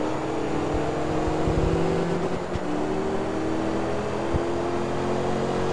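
Rear-wheel drive race cars at Motegi Raceway, spec-built around 2,800 pounds with 400 horsepower, roar at high speed down the straight, a loud steady engine drone with gear shifts and rising pitch throughout.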